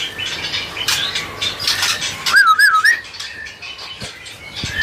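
A white-rumped shama (murai) songbird sings a brief, clear whistled phrase of rising and falling notes, close by, amid other chirps and steady background bustle of a bird shop.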